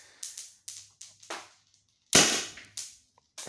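Tippmann Cronus paintball marker firing through a chronograph with a used air tank: a series of sharp, close pops, singly and in quick pairs, then one louder crack with a longer hissy tail, followed by a few more shots.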